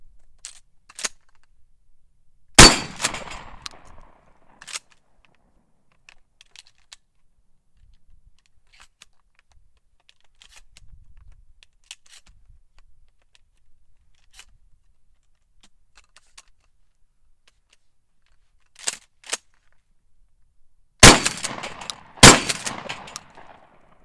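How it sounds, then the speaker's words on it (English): A Mossberg 590 shotgun fired while plinking outdoors produces sharp, loud blasts: one early shot, a couple of fainter reports, then a close cluster of three booming shots near the end, separated by near silence. "So there you have it. Mossberg 590, plinking around"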